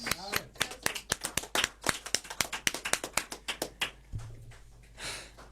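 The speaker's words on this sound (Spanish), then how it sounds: "Un aplauso." Scattered, sparse clapping at an official event concluding the peace agreement's point 6, distinct claps in an uneven rhythm rather than a dense ovation, tapering off near the end with a brief low hum.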